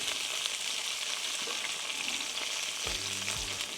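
Donair burger meat frying in a pan over an open flame, a dense continuous sizzle with faint stirring, ending in a short low tonal hum.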